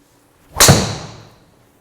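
A golf driver strikes a ball once during a fitting session, making a single sharp, loud crack that decays over about a second, with no voices.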